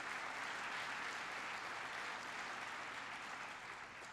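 An audience clapping at a presidential speech on immigration reform, a steady, even round of applause heard from a distance and holding throughout without a break.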